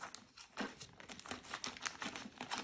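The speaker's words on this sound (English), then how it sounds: "let's start by opening our bag of garlic mushrooms" Plastic bag of frozen breaded garlic mushrooms being opened, a close run of crinkling and rustling plastic with sharp crackles and a brief tearing quality, quiet and with no talk.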